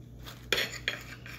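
A knife clinks twice against a plate while cutting an egg salad sandwich, two short, close, sharp taps over a quiet background.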